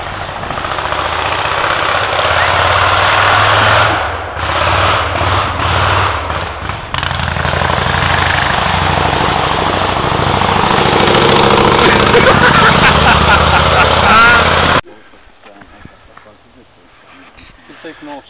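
A 1948 Panhead chopper motorcycle engine runs loud and raw without a muffler, close and rumbling with uneven throttle changes, then cuts off abruptly near the end, leaving quiet background.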